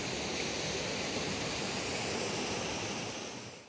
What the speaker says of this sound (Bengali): ওয়াটারফলটা হচ্ছে